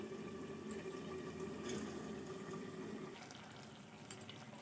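Banana flower curry with mung dal simmering in a covered pot, a steady soft bubbling and hiss with faint occasional pops, quiet and continuous throughout.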